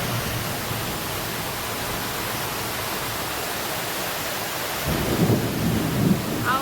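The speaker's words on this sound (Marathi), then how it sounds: "ढगांचा गडगडाट आणि अतिशय जोरात असा पाऊस चालू झालेला आहे" Heavy rain pours steadily as a dense hiss while low thunder rumbles in, swelling louder near the end as the storm rolls close during a monsoon-retreat downpour seen from a balcony.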